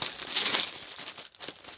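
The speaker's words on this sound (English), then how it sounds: "Sorry for crinkling. We'll just get rid of that plastic bag." A plastic bag wrapped around a pre-stamped cross stitch kit crinkles loudly and close, in a steady crackling stretch with a brief pause before the rustling resumes.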